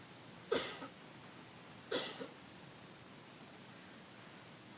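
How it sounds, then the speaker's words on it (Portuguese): Two separate coughs from one person indoors, about a second and a half apart, each a short harsh burst over a quiet background hiss. "A tosse vai e vem, vem e vai."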